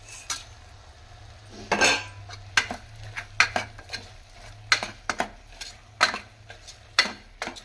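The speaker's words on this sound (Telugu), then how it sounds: "ఇదంతా ఒకసారి అట్లా తిప్పేద్దాం. కొంచెం ఉప్పు వేస్తున్నా." A utensil stirs food in a metal pan after tamarind and a pinch of salt are added, giving repeated sharp scraping clinks in an irregular rhythm, close and moderately loud, with a low steady hum underneath and no talking.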